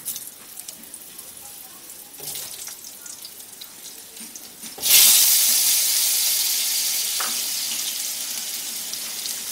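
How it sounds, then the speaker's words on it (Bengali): Potatoes drop into hot mustard oil for a prawn and potato kalia, and a sudden loud sizzle bursts up halfway through. The hiss stays strong and steady after some quieter kitchen rustling. "এবারে আমি আলুগুলোকে ভেজে নেব।"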